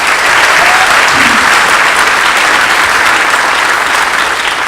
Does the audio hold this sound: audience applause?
yes